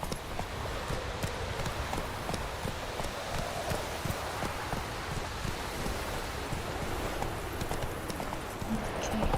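Roach, the horse in the video game Witcher 3, gallops with a steady, quiet clip-clop of hooves against a soft wind-like background.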